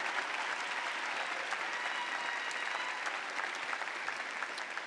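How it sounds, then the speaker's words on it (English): A crowd at a 2017 graduate school commencement ceremony applauds a new doctorate graduate and his wife, with steady, dense clapping sustained through the whole stretch at a moderate distance and no speech over it. "Let's give Steve and his wife Yolanda a round of applause"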